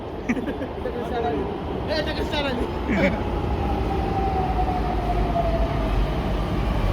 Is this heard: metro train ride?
yes